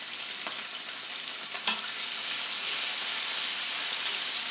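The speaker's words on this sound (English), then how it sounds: "So these anchovies we're just going to sizzle up." Anchovies sizzle in hot oil in a pan, a steady bright frying hiss with a couple of faint clicks of stirring, close and continuous with no talk.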